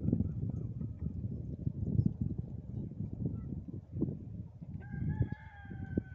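Chickens on a small farm cluck and murmur continuously nearby, then a rooster crows clearly toward the end over the flock's chatter.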